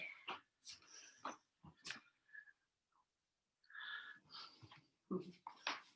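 Puppies whimpering close by during a yoga session, with soft high whines and snuffly breathy squeaks coming in short bursts separated by quiet gaps.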